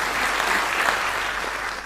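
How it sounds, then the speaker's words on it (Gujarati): A comedy show audience gives the humorist a brief, full round of steady clapping that stays loud and even throughout. "એટલે આમની માટે એકવાર તાળીઓ વગાડો."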